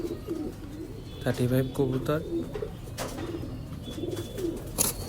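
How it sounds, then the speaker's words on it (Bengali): Pigeons coo in low, throaty rolls close by, several calls in a row, while a voice speaks over them. "এই যে এক জোড়া 35 কবুতর"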